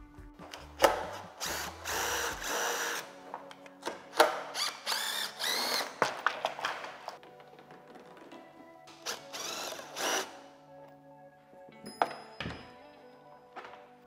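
A power drill backs screws out of a jet ski's rub rail and bumper, sounding as repeated short bursts of whirring with thunks and clunks between them, close and loud, with no talk.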